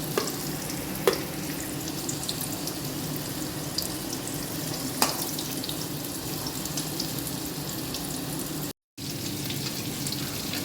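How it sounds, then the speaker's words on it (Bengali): Potatoes deep frying in oil for biryani, a steady close sizzle and bubbling that runs throughout with a few faint clinks, briefly cutting out near the end. "আলুগুলো ডিপ ফ্রাই হয়ে গেছে"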